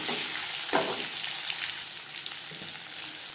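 Onion dropped into hot oil for a Bengali jackfruit curry, giving a loud, steady, close sizzle and frying hiss that runs the whole time with faint stirring knocks and no talking.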